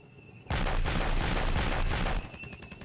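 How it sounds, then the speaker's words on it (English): Enemy artillery bombardment in the wargame Flashpoint Campaigns: Southern Storm, a sudden loud, dense roll of blasts and crackling gunfire that bursts in and rumbles on for under two seconds before easing to a lower background. "Our first platoon from the B company is bombarded by enemy artillery."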